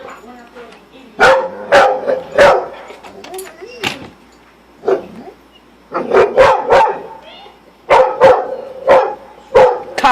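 A dog barks repeatedly in short sharp bursts, close and loud, inside a house, with people talking and calling out between and over the barks.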